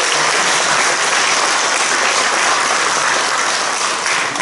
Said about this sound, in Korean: 여러분 사모님 위해서 박수 한번 좀 보내주시겠어요?